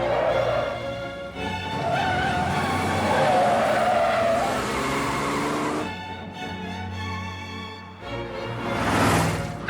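A car driven fast with tires skidding and squealing, the engine revving loudly and shifting pitch, sustained strong screeches rising and falling over about ten seconds, close and dominant.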